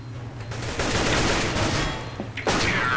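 Rapid bursts of gunfire ring out in a Counter-Strike: Global Offensive match, loud and dense over a low game hum, with a sharp final shot near the end.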